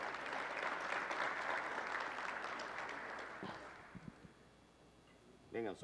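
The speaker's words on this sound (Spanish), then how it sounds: "Un aplauso para Más Una Política ya." Audience applause for an award winner at a prize announcement, a dense wash of many hands clapping that fades after about four seconds, leaving scattered claps and a brief voice at the end.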